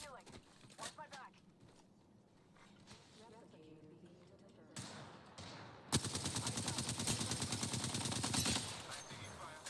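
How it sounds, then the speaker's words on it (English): Rapid automatic gunfire in the Apex Legends battle royale game, a dense loud burst of shots beginning partway through, with quieter scattered game sounds and talk before it. "I'm taking fire. I shot at an enemy."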